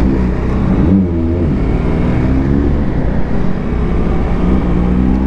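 Kawasaki ZX-10R superbike engine, modified, being revved on a street, a loud continuous rumble with the throttle rising and falling, echoing off nearby surroundings.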